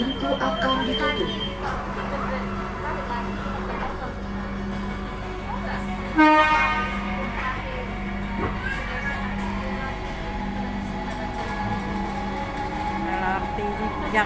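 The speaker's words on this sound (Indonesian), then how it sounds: "LRT jam terakhir" A steady rumble and hum inside a moving light rail train, with people talking in the background and a brief louder clunk midway.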